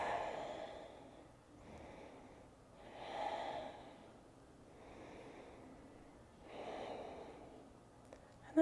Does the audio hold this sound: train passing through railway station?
no